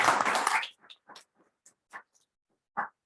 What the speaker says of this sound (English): We have to give a huge round of applause for him.